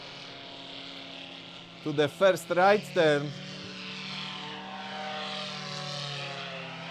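Paramotor engine droning steadily at full speed during a slalom flight at a world cup event, a continuous buzzing hum that rises and shifts in pitch as it passes, with someone commentating over it.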